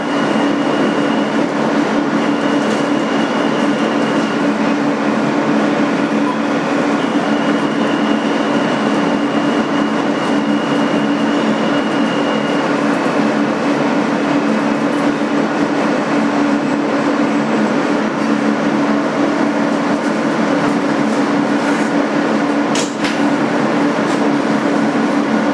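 A 2008 Kawasaki R160B subway car, #8842, on the N train Sea Beach local, rolls steadily with loud continuous rumble and wheel hum, occasional clicks over the track joints and a faint whine, heard from inside with no talk.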